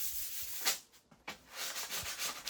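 Close, steady scratchy rubbing of a sandpaper sheet by hand, a light scuff sanding on painted furniture, in back-and-forth strokes with a brief pause midway.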